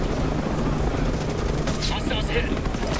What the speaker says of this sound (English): That helicopter's gonna waste me though.